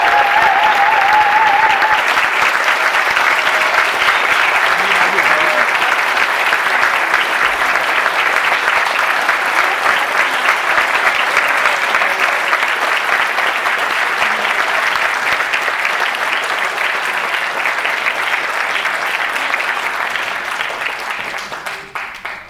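Sustained audience applause welcomes award recipient Shinya Tsukamoto at the Japan Cuts 2019 Cut Above Award ceremony. The clapping is loud, dense and steady throughout, with no talk, and begins to fade only in the final seconds.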